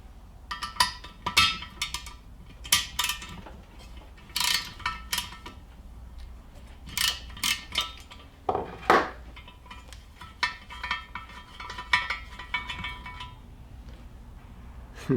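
A magnetic socket and ratchet work a spark plug out of a Dodge/Jeep cylinder head, making repeated close metallic clicks, clinks and ratcheting bursts in irregular clusters.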